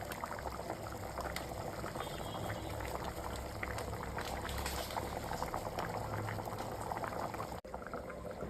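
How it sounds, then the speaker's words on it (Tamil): Mutton gravy bubbling at a rolling boil in a pot, a dense continuous burble of popping bubbles heard up close throughout. "நல்லா கொதி வருது"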